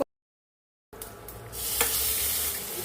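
After a moment of silence, cumin, garlic and dried chillies hit hot oil for tempering brinjal dal, bursting into a close, loud, steady sizzle that swells and holds with a stir.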